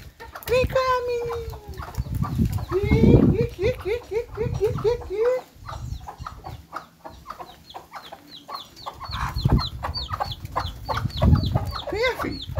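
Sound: rooster clucking

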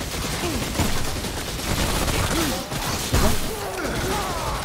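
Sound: gunfire in the video game Remnant

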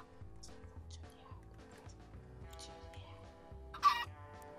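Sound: chicken clucking in the video game Minecraft

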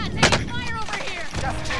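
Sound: gunfire in a battle royale video game

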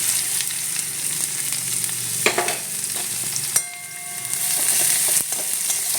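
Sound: onion frying in hot mustard oil in a wok

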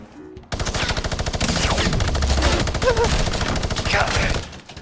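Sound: machine gun fire in video game Fortnite

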